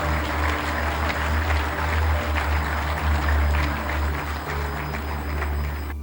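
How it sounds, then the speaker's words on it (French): Steady, dense applause from an audience at a Cameroonian memorial ceremony honouring Professor Joseph Owona, a continuous wash of clapping over a low constant hum, fairly loud throughout. "je vous prierai une fois de plus d'applaudir pour le professeur Joseph Owona"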